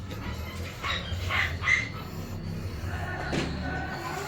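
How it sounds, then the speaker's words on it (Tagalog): A few sharp dog barks ring out at moderate distance, two close together early on and another later, over a steady low background hum. "sila lang naman maingay na aso namin"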